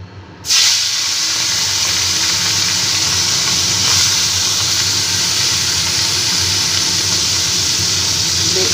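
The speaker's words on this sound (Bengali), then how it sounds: "এবার কড়াইতে সর্ষের তেল দিয়ে দিয়েছি হালকা করে মাছটাকে একটু ভেজে নেবো" Tangra fish frying in mustard oil in a wok, a loud steady sizzle and hiss that bursts in abruptly and then holds evenly, close up and continuous with no talk.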